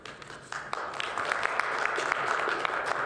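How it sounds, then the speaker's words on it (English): An audience claps in a council chamber, a dense, moderately loud patter of many hands sustained for several seconds, with a bit of murmuring underneath. "If you insist on clapping, which is inappropriate in this chamber"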